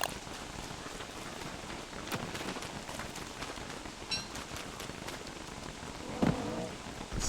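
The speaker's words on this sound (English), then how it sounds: "Because it's raining" Steady rain falling in the video game Don't Starve, a constant soft hiss of drops with no speech and a few brief clicks and louder blips scattered through it.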